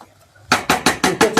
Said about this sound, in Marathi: कुकरचं झाकण लावून घ्यायचं आहे.